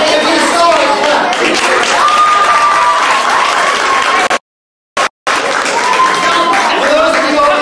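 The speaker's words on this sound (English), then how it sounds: "If you saw it, clap." An audience at a live event claps together in sustained applause while a voice carries over the crowd, with the sound cutting out briefly near the middle.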